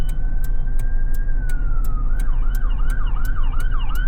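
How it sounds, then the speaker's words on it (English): An ambulance siren wails steadily, then shifts into a fast rising-and-falling yelp, loud and close over a constant low engine rumble. "Where are those sirens coming from? Always behind me."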